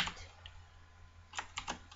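Quiet computer keyboard typing, a few soft key taps near the start and a quick cluster of clicks toward the end, close and faint.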